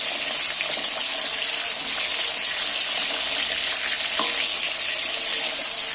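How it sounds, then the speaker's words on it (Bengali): Pointed gourd sizzles and fries in very hot oil in a pan while being stirred slowly, a steady close crackling hiss throughout with soft scraping touches. "এবারে আমি আস্তে আস্তে নাড়তে থাকবো"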